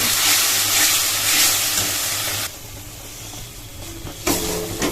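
Onion, ginger, cumin and spices frying in hot oil, a steady loud sizzle and hiss that drops to a quieter crackle midway, then flares briefly near the end.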